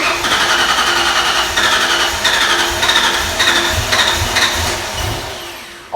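A 1994 Ford Mustang GT with a Coyote engine swap cranks steadily after storage, its starter churning in a loud, rhythmic pulsing that repeats without the engine catching, then winds down.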